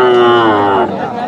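A young deshi cow at a village cattle market moos once, a loud close drawn-out low call that tails off into faint background noise.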